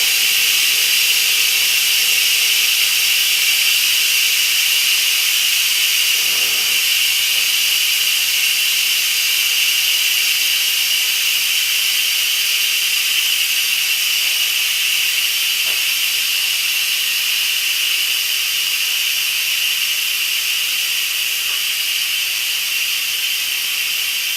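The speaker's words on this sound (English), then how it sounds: "Turn it to vent on Instapot, and it's going to slowly release that high pressure out of the pot." An Instant Pot vents its high pressure through the steam release valve in a loud, steady, unbroken hiss that holds for over twenty seconds, close and alone.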